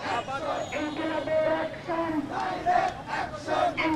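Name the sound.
protesters chanting slogans at torch procession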